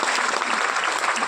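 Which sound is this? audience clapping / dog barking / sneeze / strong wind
audience clapping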